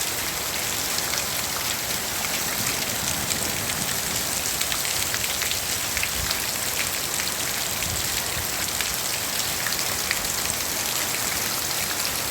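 Rain pours steadily onto a surface during a rainy-season shower, a dense, even hiss of countless drops with occasional louder splats, continuous and fairly loud with no voices.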